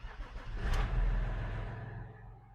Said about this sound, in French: Et depuis, la voiture démarre nickel.